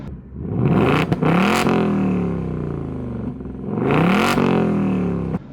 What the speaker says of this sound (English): Listen to that beautiful 5-liter V8.